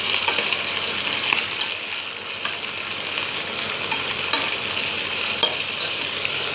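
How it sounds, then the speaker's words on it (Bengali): Mutton fries in oil with dried red chillies, producing a loud, continuous close-up sizzle with occasional scraping stirs and no talking. "এখানে আমি মটনটা একটু তেল আর শুকনো লঙ্কা দিয়ে ভেজে নিচ্ছি।"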